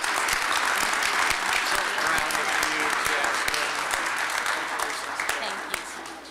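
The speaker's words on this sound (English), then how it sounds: "Let's give a big round of applause for Jaspen." Audience applause at a community service awards ceremony, steady dense clapping from a crowd that holds for several seconds and slowly tapers toward the end.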